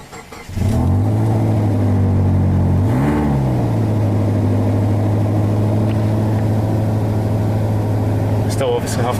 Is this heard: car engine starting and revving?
yes